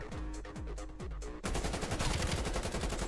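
Gunfire from Call of Duty: Black Ops Cold War, a close series of rapid automatic shots that give way to a sustained, louder burst of continuous firing.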